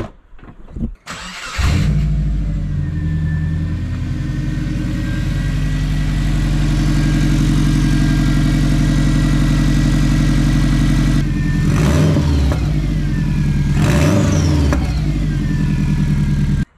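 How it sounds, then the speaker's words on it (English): Turbocharged Subaru Forester engine running steadily with a leaking downpipe gasket at the turbo, a loud, close drone with a faint puffing tick over the exhaust, with two short revving bursts near the end. "That is an exhaust leak. I know which gasket it is. It's our downpipe gasket, so a downpipe to our turbo."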